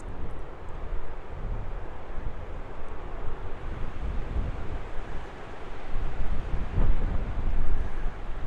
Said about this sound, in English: Windy and unforgiving.